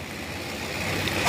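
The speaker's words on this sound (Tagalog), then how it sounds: "Ayan, tahimik naman yung tunog ng makina." A Honda PCX 160 scooter idles with a steady, hissy hum, close and even, with no talk.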